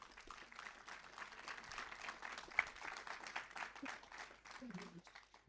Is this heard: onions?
no